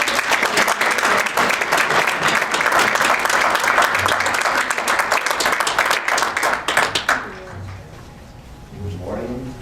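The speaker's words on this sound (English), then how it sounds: "please give a big round of applause" Applause from a conference audience at Appalachian State's Global Opportunities Conference, dense steady clapping for about seven seconds before fading out, with a voice beginning to speak afterward.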